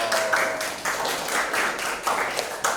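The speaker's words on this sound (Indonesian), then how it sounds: "Tepuk tangan untuk kita semua dulu dong." A classroom group claps hands together in a few short, rhythmic bursts of loud, close clapping, with brief pauses between the bursts.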